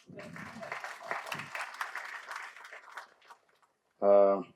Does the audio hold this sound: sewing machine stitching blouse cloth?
no